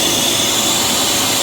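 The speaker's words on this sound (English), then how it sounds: "So I got a mains powered one. The cord's pretty long and it is an air blower." A mains-powered electric air blower runs continuously, blasting dust off a Citizen X3 typewriter with a loud, steady whooshing roar and high whine that holds level from start to finish.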